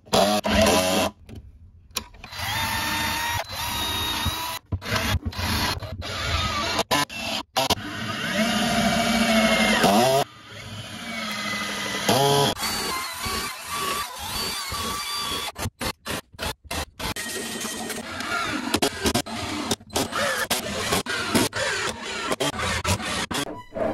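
A power driver sinks screws to secure the bearing of a rolling ball sculpture: loud whirring bursts of several seconds, broken by short pauses and sharp stops as each screw seats, with no voices.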